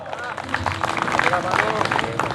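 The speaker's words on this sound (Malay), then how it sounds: "Sekali lagi tepuk tangan untuk Pak Long." Audience applause for Pak Long at a stage event, a dense continuous patter of claps running under a voice speaking over the crowd.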